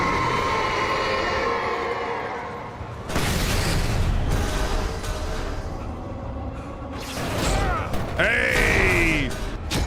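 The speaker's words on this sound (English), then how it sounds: "Flashbang." Flashbang grenade blasts in the video game Alan Wake, loud bursts at about three and seven seconds, each followed by a sustained ringing roar and then a high whine, set over a tense game score.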